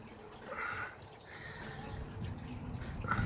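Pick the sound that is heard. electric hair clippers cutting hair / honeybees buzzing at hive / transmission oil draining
transmission oil draining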